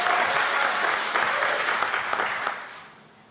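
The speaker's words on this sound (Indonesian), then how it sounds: "Beri tepuk tangan dulu untuk Tuhan kita." A church congregation claps together at an online Sunday worship service, a loud, dense burst of applause that holds for a few seconds and then fades away.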